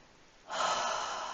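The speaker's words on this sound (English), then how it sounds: "going to take one more breath" A deep, breathy inhalation taken during a yoga forward fold, starting softly then swelling into a steady, airy breath that holds close and clear for nearly a second, alone without talk.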